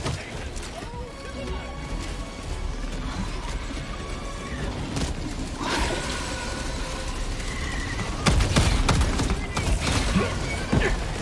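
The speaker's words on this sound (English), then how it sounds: "Little pocket cannon, aren't you" Cannon gunfire in the video game Helldivers 2 lands as several heavy booming blasts over a busy rumbling battle background, the loudest bursts coming near the end.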